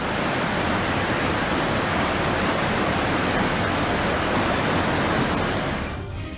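Fast floodwater surges through a swollen river after heavy rain, a loud, dense, unbroken roar that holds steady at close range and cuts off abruptly at the end.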